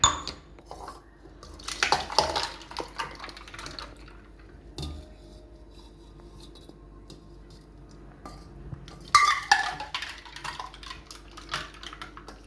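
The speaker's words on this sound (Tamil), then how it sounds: "ஐஸ் கட்டி சத்தம் பண்ணுங்களா, டபுக் டபுக் டபுக்குன்னு." Ice cubes clatter and clink against a container as lemon juice is mixed, in uneven bursts of rattling knocks with quieter stretches between.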